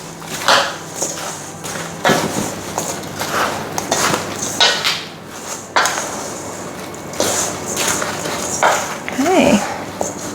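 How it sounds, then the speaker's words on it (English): A utensil scraping and knocking around a bowl of dry apple cake ingredients with apples mixed in, irregular clattering taps and rubs throughout, with a person talking over it. "we'll just give this a quick stir"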